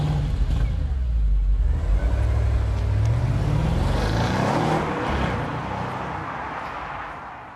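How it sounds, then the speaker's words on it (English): A bright red German car's engine rumbles close by, a steady low drone that rises in pitch as it pulls away and gradually fades. "A very red, rather lovely German car."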